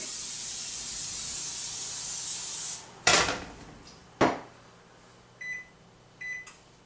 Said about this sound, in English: spray down our frying pan.